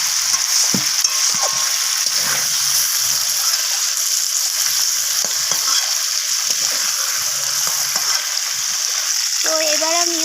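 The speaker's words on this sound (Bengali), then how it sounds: "তো এবার আমি ওই একই তেলের মধ্যে কিছু গোটা ফোড়ন দিয়ে দিলাম।" Whole cardamom, cinnamon, cloves, bay leaf and a dried red chilli hit hot oil left from frying chicken, producing a loud, continuous close sizzle with scattered stirring scrapes.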